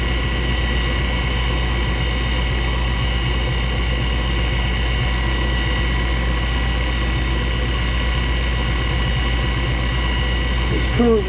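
A DIY Myford toolpost milling spindle motor runs at speed, a loud steady whine and hum held constant throughout with no pauses.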